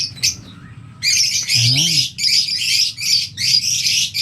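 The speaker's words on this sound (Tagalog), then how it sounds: "Maraming ibon dito" Many birds in a Valenzuela aviary squawk and chirp loudly in repeated bursts, close and busy, while a voice speaks briefly underneath.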